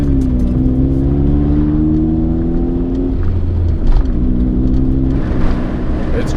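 An Acura Integra car drives along with its engine humming and shifting pitch through gear changes, a steady close drone that dips at a downshift before climbing again.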